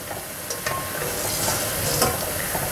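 Punugulu made from dosa batter deep-fry in hot oil, a loud, steady sizzle broken by a few brief stirring clinks and scrapes.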